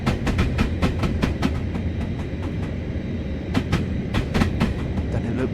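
A Class 444 electric train in Train Sim Classic rolls into platform 4 at Guildford on the Portsmouth line: a steady low rumble punctuated by sharp, rhythmic clickety-clack of wheels over rail joints, close and without talk.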